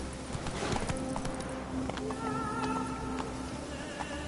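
Roach, a horse in The Witcher 3, trotting and galloping at a steady beat, hooves clip-clopping close and fairly quiet over a soft ambient music bed.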